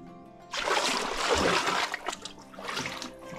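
Water splashing and trickling as someone wades through a flooded spot in a village, a sustained wet rush starting after a quiet half second, easing briefly, then surging again, close and fairly loud with no talk.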